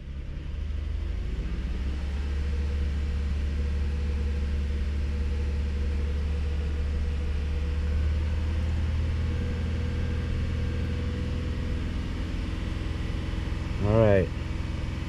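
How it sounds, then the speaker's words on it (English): A 2012 Honda Odyssey engine runs at a steady low idle for a long stretch, close and continuous, with a brief chirping whine near the end. "So now it tells us to start the engine."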